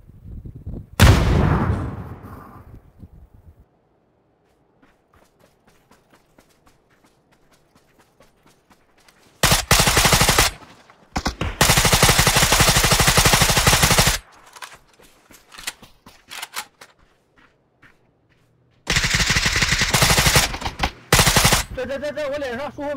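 Gunfire in PUBG: a close burst at the start, then long bursts of automatic fire in several clusters with scattered single shots between them and quiet gaps.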